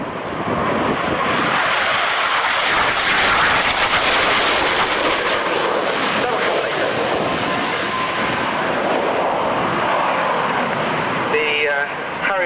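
A Harrier jet making an inverted flypass at the 1993 RAF Waddington airshow, a loud sustained roaring jet engine that swells and stays dominant throughout, with a commentator talking over it.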